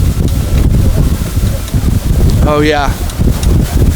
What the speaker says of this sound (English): just the stiff headwind at this point.